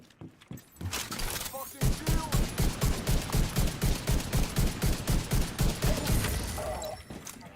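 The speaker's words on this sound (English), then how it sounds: "Nice explosions." Rapid rhythmic blasts and crackling bursts repeat in quick succession, loud and close, like game explosions and gunfire.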